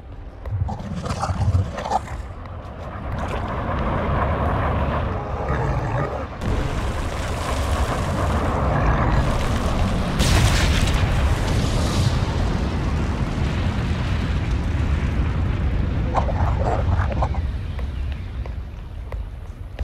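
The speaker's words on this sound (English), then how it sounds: "Warfield has launched another missile at our forces." A missile launch and explosion in StarCraft II: a loud sustained roaring rush with heavy rumbling blasts, building into a dense booming surge that carries on for many seconds before easing slightly.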